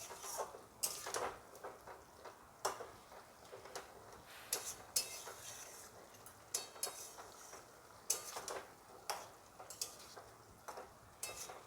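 Spiced curry with coriander powder is stirred and sautéed in a pan, with a soft background sizzle broken by repeated irregular scraping clicks of the spoon against the pan.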